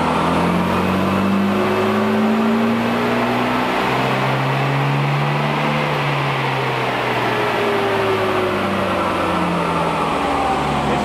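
A boosted car engine revs hard and bellows with a loud, continuous roar, its pitch rising and falling steadily over the whole stretch.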